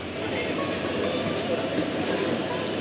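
A Sealdah–Balurghat train at Sealdah station gives off a steady, loud rail rumble and hiss that fills the whole stretch without a break.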